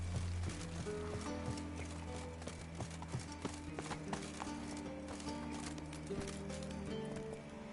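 Hooves pound in a fast, even gallop from a horse in The Witcher 3, continuous and close beneath layered game music and ambient sound.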